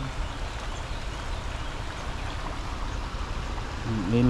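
Clear river water of the Stahovica in Slovenia flowing over stones, a steady close rushing wash heard alone, with a brief faint tonal sound near the end.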